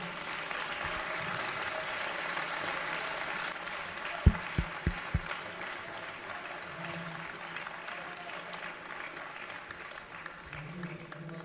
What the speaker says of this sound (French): je vous prie de faire un tonnerre d'applaudissements à Jean-Frédéric Poisson.